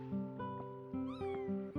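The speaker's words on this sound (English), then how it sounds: "That's just a cat." A cat meows in the Chrono Cross video game, a few short tonal cries close up over a steady musical background, with no talk.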